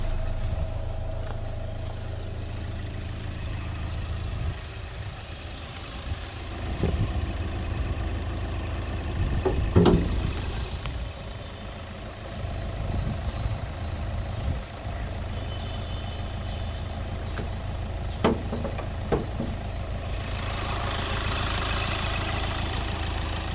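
A 2018 Hyundai Verna Fluidic SX Optional idles after a push-button start, giving a steady low engine hum with a few faint clicks and knocks over it.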